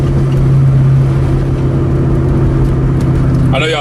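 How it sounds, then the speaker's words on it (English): Ford Mustang exhaust cruising down the road in third gear, a steady low droning rumble heard from inside the car, with a brief higher-pitched noise near the end. "Y'all just listen to the exhaust going down the road."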